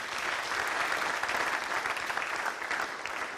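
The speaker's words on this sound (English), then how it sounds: "Please, a round of applause for him again." A conference crowd at a 2019 Nigerian agenda event applauds steadily, a continuous moderate patter of many hands clapping without talk.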